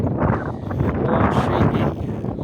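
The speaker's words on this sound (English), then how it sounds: "It's quite windy today" Strong gusty wind roars and buffets the microphone continuously, dense and loud with no clear voices.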